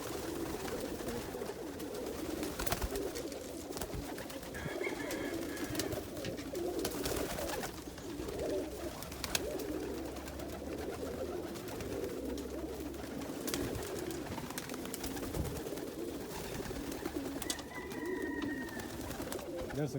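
Indian fantail pigeons cooing in a loft, soft repeated low coos from several birds overlapping, faint and fairly close, with a few higher chirps and scattered clatter.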